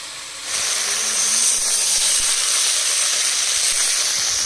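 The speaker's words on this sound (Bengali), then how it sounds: "এবার কচুর ফুল দিয়ে দেবো। সামান্য একটু জল দিয়ে দেবো।" Water poured into a hot pan of taro flowers and fried shrimp bursts into a loud, close hiss of steam and sizzle that starts suddenly and holds steady.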